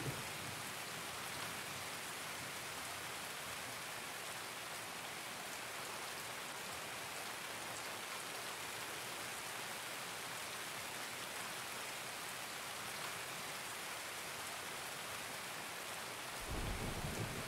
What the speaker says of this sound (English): This rain's so hard to hear people.